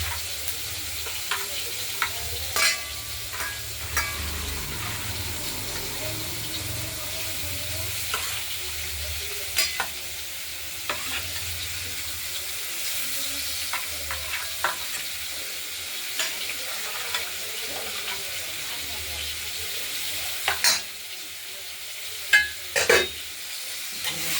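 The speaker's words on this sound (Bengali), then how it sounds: "হালকা ভাজা হবে তারপরে আলুটা আর ডাঁটাগুলোকে একটু ভেজে ভেজে নেব।" Bangal stems and potato sizzle steadily in a hot pan of oil, with intermittent scraping of a spatula as they are stirred and fried, sounding close and continuous.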